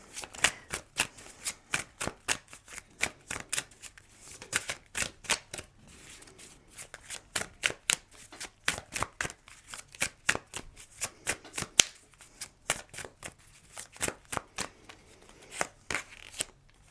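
A deck of keyword oracle cards being shuffled, with rapid crisp riffling bursts repeating steadily and close up, no talking over it.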